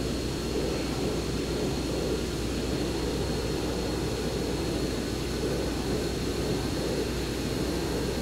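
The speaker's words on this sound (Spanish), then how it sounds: "Son dos jets." Jet aircraft roaring overhead in the Arma 3 military game, a steady, loud, broadband engine drone with a low rumble that holds unchanged throughout, with no voices.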